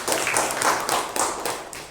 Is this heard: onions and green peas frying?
no